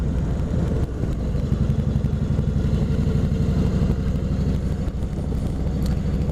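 A motorcycle on an early spring ride chugs along with a steady, throbbing low engine pulse close up, its rumble constant and loud beneath light wind noise.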